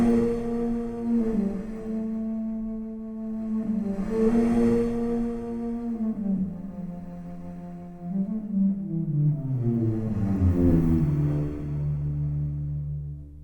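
A Daniela Mars contrabass flute, its dynamics and air noise swept by a mod wheel, plays low sustained tones that swell and fade, with breathy air rising at the peaks and a later phrase stepping downward, some notes layered polyphonically.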